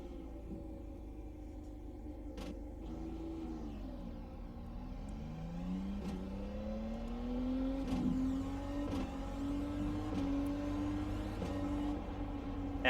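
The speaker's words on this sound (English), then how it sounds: "let's get the car fired up" IndyCar race car with aeroscreen, engine running and revving, a steady low drone rising and falling in pitch as it climbs, close and continuous with no talk.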